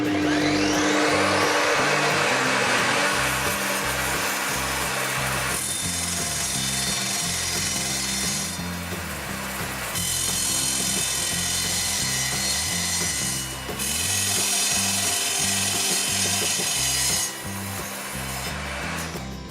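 An Evolution R255 SMS 10-inch sliding mitre saw cuts through a piece of wood containing screws, a loud, close, continuous whining grind with rising and falling bursts as the blade bites.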